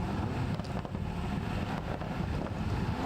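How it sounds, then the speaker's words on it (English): A Rover V8 racing engine's deep, continuous rumble, loud and steady, at a historic racing meeting, mixed with buffeting wind noise on the microphone. "Listen to that RV8 rumble."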